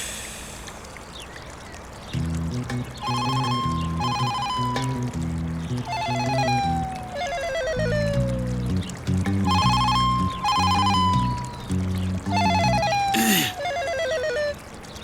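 A telephone rings in a repeating electronic ringtone pattern, steady and clear, going on for many cycles with no talk over it.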